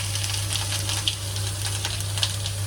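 Grated carrots frying in ghee with bay leaves, giving a steady close sizzle and crackle with faint stirring textures and a low hum underneath.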